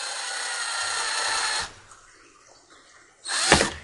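A power drill whirs steadily for a second or two while driving screws into a pond pump, stops, then gives one short, loud burst after a brief pause.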